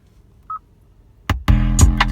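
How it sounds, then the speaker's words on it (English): A phone ringtone: after a brief, faint electronic beep and a moment of quiet, a loud, full tune bursts in and continues to the end. "Ringtone."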